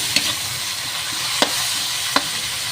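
Shrimp paste (alamang) sizzles steadily in a frying pan with garlic and onion for Filipino pakbet, with three sharp scraping stir strokes standing out against the continuous hiss.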